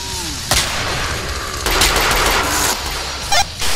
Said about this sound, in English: I'm just firing and firing and firing and firing and firing